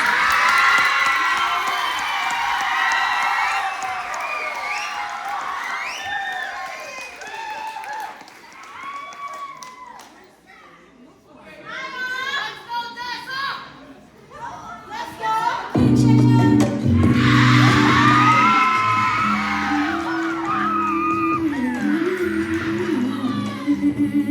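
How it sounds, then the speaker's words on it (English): An audience at a college AAPI celebration showcase applauds and cheers for a performer of a Samoan love song, clapping mixed with whoops and shouts that swell, dip briefly midway, then surge again loudly, alongside a few voices. "Let's give them a round of applause"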